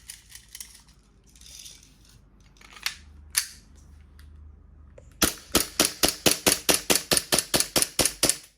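A Glock 19 Gen5 replica pistol fires a rapid, continuous string of sharp snapping shots, about fifteen evenly spaced reports close by, following a few scattered clicks and handling noises.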